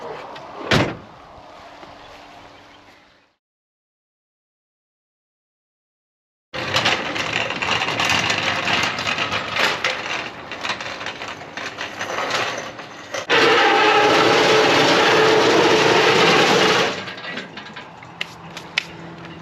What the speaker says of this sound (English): as soon as I move my trailer out of the way